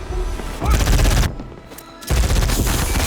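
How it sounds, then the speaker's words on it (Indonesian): Rapid bursts of film gunfire from a silenced pistol fired at guards, loud and dense in two long volleys with a short quieter gap between them. "Lee memasang peredam di pistolnya, segera menembaki penjaga, dan menghabisi Cortez."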